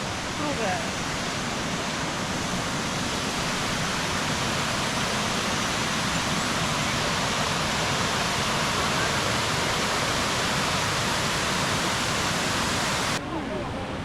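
Waterfall near Luang Prabang, Laos, a dense, loud, continuous rushing roar of falling water that holds steady before cutting off near the end, with speech faintly under it.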